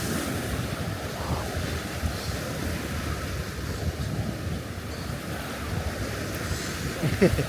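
Surf rolls steadily onto a beach at Yangyang on the Korean coast, a continuous broad wash of breaking waves mixed with gusty wind buffeting the microphone, with no clear talk over it.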